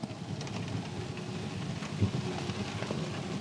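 Heavy rain drumming steadily on a Baja Wrangler 2 canopy during a ride-along in a thunderstorm, a dense, continuous patter with a few louder drops and no voices.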